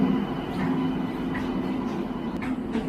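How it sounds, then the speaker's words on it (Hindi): Korba Amritsar Chhattisgarh Express train arriving at platform 4 of Jhansi Junction, a steady low rumble of wheels and rolling stock at moderate loudness with faint squeal hints. "और ये आ चुके Korba Amritsar Chhattisgarh express platform number 4 पर झांसी जंक्शन के।"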